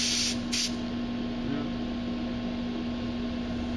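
A spray gun lays down U-Pol clear coat in heavy wet passes, the trigger pulled well back. The hiss is steady and continuous, with a brief burst of brighter spray near the start and a constant hum underneath.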